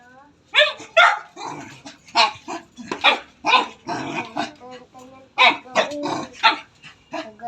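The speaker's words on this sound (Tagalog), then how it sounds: "Ingay ng aso." A dog barks, yips and growls in repeated rapid bursts, loud and close, mixed with whimpering, while people talk nearby.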